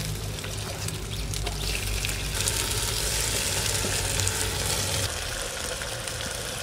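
Marinated country chicken is tipped into a pan of fried onions for a village curry, and a steady hissing sizzle runs throughout, swelling slightly midway, with no one speaking.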